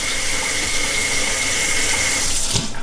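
Cold water runs from a kitchen faucet into a sink in a steady, close hiss and splash, then cuts off abruptly near the end.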